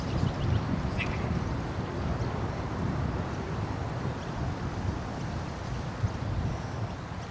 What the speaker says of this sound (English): There he is over there, getting attacked by the birds.